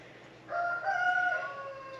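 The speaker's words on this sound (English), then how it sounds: "You hear the roosters." A single rooster crows at a distance, one drawn-out call rising and trailing off over a quiet background.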